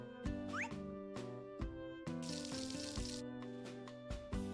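Watering can sprinkling crops in Harvest Moon A Wonderful Life, a short splashing game effect over a looping tune of plinking synth notes and chimes, all fairly quiet and with no talk.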